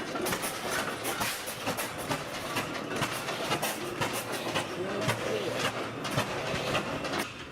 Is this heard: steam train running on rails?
yes